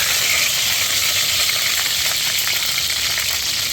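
Beef searing in a hot cast iron pan for a stir fry, giving a loud, steady sizzle with a bright hiss and faint crackles, up close and alone.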